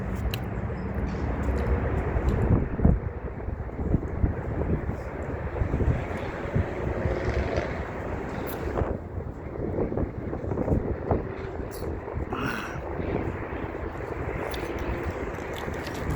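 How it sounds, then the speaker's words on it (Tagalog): Cold wind gusts outdoors in Canada, buffeting the microphone with a continuous low rumble that swells and dips irregularly, with faint background sounds. "windy"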